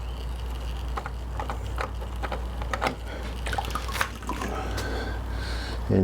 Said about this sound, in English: simply unscrew it and the oil will start dripping, which is totally normal